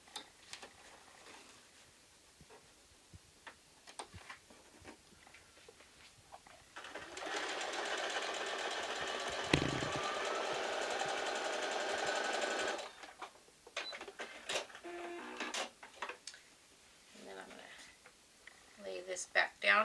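A sewing machine stitches quilt block pieces for a Solare block-of-the-month quilt. It starts after quiet handling sounds, runs steadily for about six seconds, and then stops, leaving light clicks and fabric rustling.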